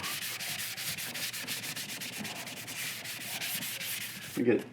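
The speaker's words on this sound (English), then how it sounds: "I'm going to get the outside of light sanding too." Steady rhythmic light hand sanding of the outside of a quarter-scale Aquaman figure, a continuous scratchy rub with regular strokes, close by, ending in a brief louder knock.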